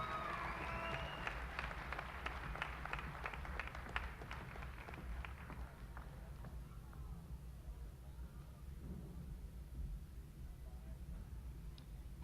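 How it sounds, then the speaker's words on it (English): Audience applause at a 2017 nursing pinning ceremony for graduating students, a dense burst of clapping from a large crowd that fades after about five seconds, leaving quiet room tone. "Let's give a round of applause to these fine students."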